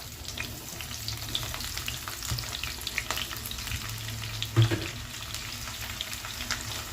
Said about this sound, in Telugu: ఇప్పుడు ఉల్లిపాయ ముక్కలు వేసేద్దాం.